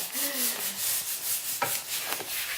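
Wood being sanded by hand in a church kitchen set up as a workshop, a steady rubbing scrape that repeats in soft strokes, with a couple of sharper knocks near the end.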